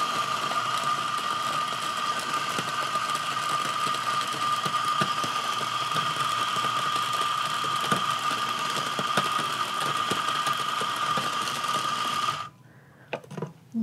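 A stepless espresso coffee grinder runs steadily with a constant high-pitched whine and motor hum while being adjusted to a finer setting, then cuts off near the end, leaving a few faint clicks.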